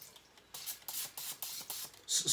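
Cooking oil spray hisses into a preheating air fryer basket set to 400 degrees, in several short quiet bursts of a second or less, followed by a louder final spray.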